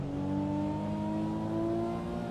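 Steady race car engine drone from the Assetto Corsa Evo racing game, a continuous mid-revs hum with layered tones that rise only slightly, with no sharp shift break; no talking.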